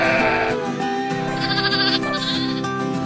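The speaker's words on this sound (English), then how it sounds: "The Scottish blackface lamb." A Scottish blackface lamb bleats loudly and close, its wavering cry continuing for about three seconds and standing alone with no talk.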